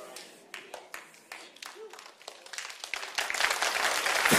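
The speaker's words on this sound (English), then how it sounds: "Are we clapping for this guy?" An audience at a church service starts with sparse, scattered claps that quickly build into full, loud applause, with a voice speaking briefly near the start.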